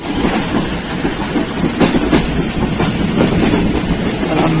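A Pakistan Railways passenger train running from Lahore to Rawalpindi rumbles loudly from onboard, with a continuous roar and rhythmic clickety-clack of wheels over rail joints, and no talking.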